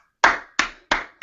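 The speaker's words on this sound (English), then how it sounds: "we've got the clapping." Four sharp, evenly spaced hand claps land in quick succession, close and crisp, each with a short decaying tail and nothing else heard.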